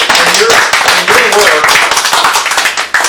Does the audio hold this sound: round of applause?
yes